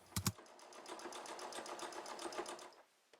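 A sewing machine top stitching fleece runs in a quick, steady burst of rapid needle strokes, close and fairly quiet, ending with a short slowdown.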